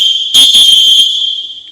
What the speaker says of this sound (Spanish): Así de agudo sonó el pitido de un árbitro imaginario